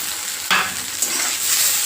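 Softened brown onion and finely chopped tomato sizzle together in a hot pan. A sharp stir or toss near the start briefly lifts the crackle, then the frying settles into a steady hiss.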